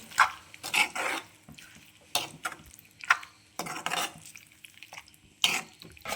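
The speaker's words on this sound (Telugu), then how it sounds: "అదంతా కూడా ఒకసారి బాగా మిక్స్ చేసేసుకోవాలి" A spoon scrapes and clatters in a pan while fenugreek leaf curry with chili powder, salt and tomato is mixed, giving about eight short, separate stirring bursts with quiet gaps between them.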